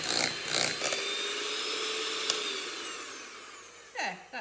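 An electric hand mixer whisks margarine and other ingredients for a raspberry and coconut slice at high speed, giving a steady, whining motor drone with a few bumps of the beaters against the bowl.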